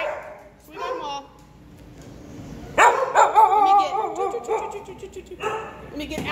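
Several dogs barking in a shelter bay, with sharp yips and repeated barks echoing nearby while a person talks over and between them.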